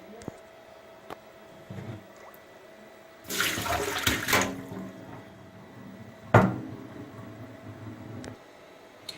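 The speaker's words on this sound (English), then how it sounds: "I'm going to dump the cold water from the meat" Cold water is dumped off cooked lamb meat, rushing out for about a second and splashing loudly, followed by a sharp knock and scattered quiet clatter.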